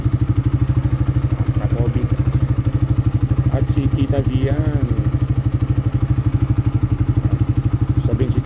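A Suzuki Raider Fi 150 motorcycle engine runs steadily nearby with a fast, even putter, close and loud throughout, while people talk over it.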